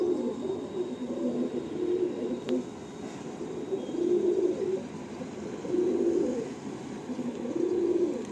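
Madrasi pigeons coo in low, rolling bursts that repeat every couple of seconds, close by against a faint steady background hum.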